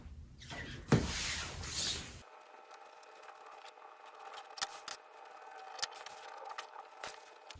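Scissors cutting along the fold of folded fabric for a knife-pleated Civil War-style skirt, a quiet run of soft crisp snips and slicing rustles, close and faint, after a brief burst of louder handling noise at the start.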